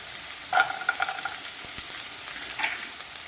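Vegetables, carrots, peas, beans, onion and tomato for ragi soup, sizzle softly in a pan, a steady low frying hiss broken by a few scrapes and stirs of a utensil.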